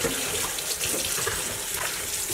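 Cold tap water runs steadily into a sink while a daikon radish is rinsed, a constant close splashing hiss with no pauses and no talk.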